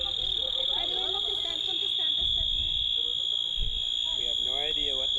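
A school campus fire alarm shrieks as a loud, continuous high-pitched tone through the whole stretch, with several people talking underneath it.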